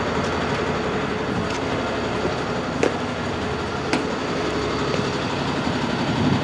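A train rolls past St Dunstans level crossing in Canterbury, a loud, steady broadband rumble with a few sharp clicks of wheels over rail joints, close and continuous throughout.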